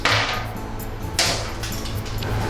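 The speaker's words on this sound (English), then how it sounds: "And remove the ice cubes." Ice cubes clink and knock as they are lifted out of cold drained noodles in a strainer. Two sharp clatters stand out over a faint wet background.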